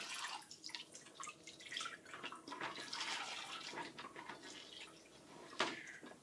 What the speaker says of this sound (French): il suffit simplement de presser la lavette dans le seau essoreur